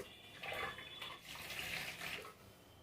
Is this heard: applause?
no